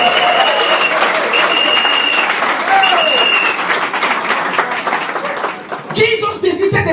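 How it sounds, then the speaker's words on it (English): A church congregation at a worship meeting in Malaysia claps for Jesus in dense, sustained applause across the room. Voices run beneath it, and the clapping thins out near the end. "If you want to clap your hand for Jesus, clap it."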